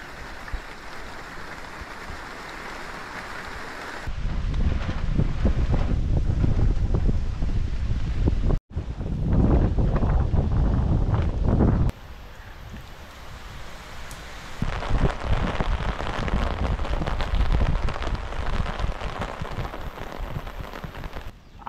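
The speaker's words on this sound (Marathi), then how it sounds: "आणि मुंबईमध्ये पाऊस आलेला आहे" Heavy monsoon rain and gusting wind in Gorai, Borivali, Mumbai, make a loud, steady roar that surges and drops in sections and buffets the microphone, with no voices.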